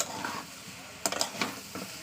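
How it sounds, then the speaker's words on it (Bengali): Liver frying in a pan on a home kitchen stove, a soft continuous sizzle broken by a few sharp scraping clinks as it is stirred, close and fairly quiet. "কলিজা ভাজা।"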